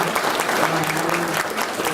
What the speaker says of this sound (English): Let's give one more round of applause to our people.